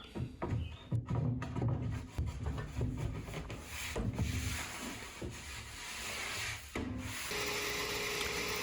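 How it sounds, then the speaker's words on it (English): Sanding on a wooden cabinet, rough scraping strokes with knocks and handling noises, close up, then a steadier sustained rasp toward the end. "here I'm just cutting it and sanding it down."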